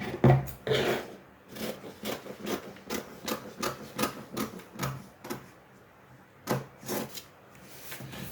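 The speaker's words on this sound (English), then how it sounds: "The next thing we're going to do is to cut open this waist dart line." Scissors snip through a paper sewing pattern along a waist dart line, a series of close, crisp cuts in an uneven rhythm, faint and alone.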